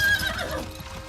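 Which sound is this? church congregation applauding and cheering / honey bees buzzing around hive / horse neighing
horse neighing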